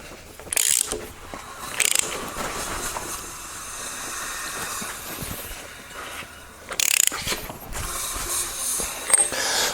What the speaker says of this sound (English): drive the harmonic balancer onto the crank with the crank bolt